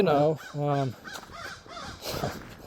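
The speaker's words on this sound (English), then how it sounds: "there's some crows and shit. Are they crows? I think yeah, that's crows." Several crows caw loudly outdoors, two long harsh calls up front followed by a run of shorter, fainter caws.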